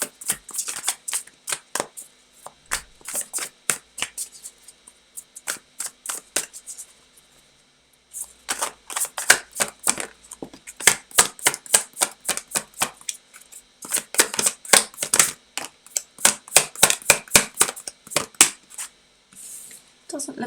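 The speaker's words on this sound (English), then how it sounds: "give these a good shuffle" Tarot cards being shuffled by hand in quick riffling bursts of crisp, rapid flicks, separated by brief pauses and repeated several times, close and clear with no talking.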